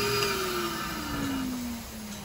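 A vacuum seeder used for planting onion seeds whines loudly and then winds down as it is switched off, its pitch sliding steadily lower over a couple of seconds.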